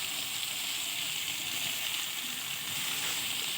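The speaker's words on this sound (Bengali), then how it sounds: "দিয়ে একটু নেড়ে চেড়ে ভেজে নেবো আলুগুলো।" Potato pieces frying in a pan with salt and turmeric give off a steady, close sizzle that holds evenly throughout, with no talk.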